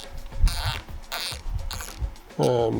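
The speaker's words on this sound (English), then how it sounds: "for every mil you get a harder click, and that makes it a lot easier to adjust without looking" Zeiss LRP S5 5-25x56 riflescope turret being turned, giving several short mechanical clicks with a firmer detent at each mil, close and crisp over a quiet background.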